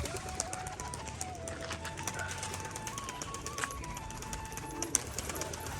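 Rajshahi pigeons, including a female, coo softly among soft clicks and a thin wavering whine in a noisy background.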